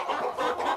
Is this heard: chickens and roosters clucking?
yes